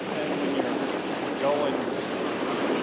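A boat runs over choppy waves on a bay, a steady rushing wash of water and wind noise buffeting the microphone, loud and continuous throughout.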